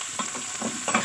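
Soybean chunks frying in a pan, stirred with a few quick scraping strokes over a steady close sizzle, with no talk.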